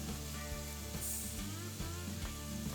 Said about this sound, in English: You can hear it sizzling right away.